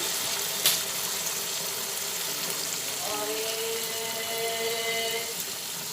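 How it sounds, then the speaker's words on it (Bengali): Water is poured into a hot pan of fried potato and pointed gourd for curry, setting off a steady sizzle and bubbling with a faint clink near the start, close and continuous. "পটলটা ভেজে তুলে রেখেছিলাম সেই বাটিটার করে জল এখানে দিয়ে দিলাম"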